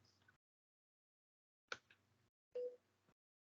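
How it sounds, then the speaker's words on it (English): A phone gives a couple of short electronic beeps as its power beeps during a meeting recording, close and sparse with gaps of silence between. "I hear a beeping."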